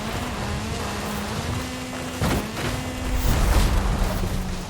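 Continuous engine drone of race cars in the video game Forza Horizon 5, a steady hum with a few sharp thumps, swelling louder toward the end.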